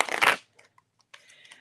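Playing cards riffle in a quick burst, then a few soft taps and clicks, followed by another brief stretch of shuffling, close and fairly quiet.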